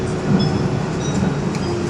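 A Shinkansen bullet train runs with a steady, close broadband rumble and rolling noise that holds evenly throughout, with no talking over it.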